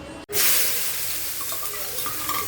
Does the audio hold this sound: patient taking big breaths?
no